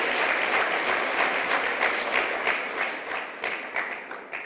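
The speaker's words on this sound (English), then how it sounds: "Put your hands together for them." An audience at a police inspector development course graduation applauds, a loud, dense wall of clapping with scattered sharper thuds, sustained throughout and easing slightly at the end.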